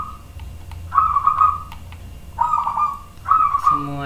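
Birds call in the morning, several steady whistled notes repeating at a moderate distance, each held about half a second with pauses between, over a low ambient hum.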